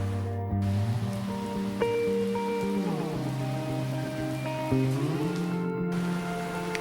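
Steady video game rain patter fills the scene, with low tonal music or ambience running underneath the whole time.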